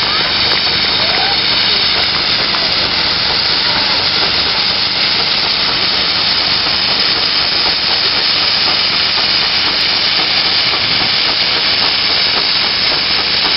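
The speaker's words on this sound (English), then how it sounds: "the car received 100 tons being pulled by a McLaren traction engine that was built in 1882" A loud, steady hiss of steam fills the whole stretch, with a continuous mechanical rumble beneath, from an 1882 McLaren steam traction engine pulling a 100-ton load.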